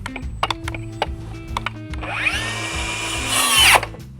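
A Milwaukee 2834 cordless circular saw spins up and bites into wood with a rising whine, after a series of sharp knocks and clicks, then stops abruptly.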